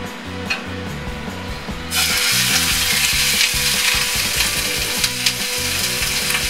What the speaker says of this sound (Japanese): フライパンが十分に熱されたところでお肉を焼いていきましょう